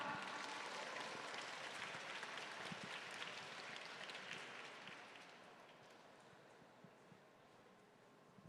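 A closing-event audience applauds as a presentation group is welcomed. The clapping is faint and distant, like a soft patter, and it slowly thins and fades over about eight seconds.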